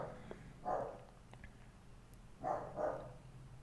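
A dog barks in the background, two separate bursts of a couple of barks each, faint and fairly distant, with no talk over them.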